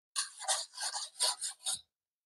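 A kitchen knife drawn repeatedly across a sharpening steel, five distinct rasping strokes in quick, even rhythm, close and fairly loud with no talking.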